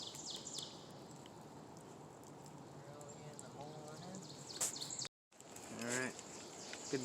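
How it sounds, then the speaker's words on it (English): Birds chirp and twitter in the distance in the early morning at a bushcraft campsite, over a steady outdoor hum, with short bursts of calls rising now and then. "You'll hear the birds chirping early in the morning."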